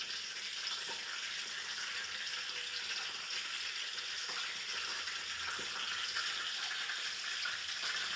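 Cumin seeds sizzling in hot oil for a tempering, a steady, moderately loud hiss and crackle running throughout, alone with no voices.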